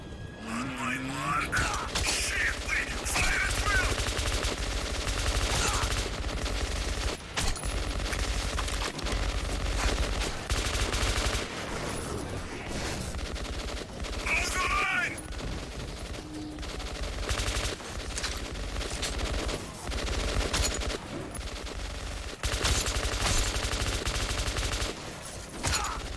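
Sustained gunfire in the shooter Metro 2033 Redux, with rapid machine-gun bursts and mechanical clatter rattling almost continuously, loud and close, while voices speak intermittently over the fight.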